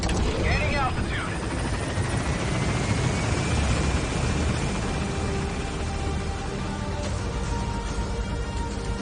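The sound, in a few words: helicopter gaining altitude in Metal Gear Solid 5 video game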